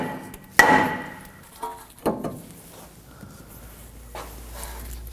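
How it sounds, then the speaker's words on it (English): Hammer blows on the front brake rotor of a 2014-2020 Acura MDX to free it from the hub, three or four sharp metallic strikes spaced about a second apart, close and fairly loud. "Now we're going to remove the rotor, and for that we're going to be hitting on this area right here."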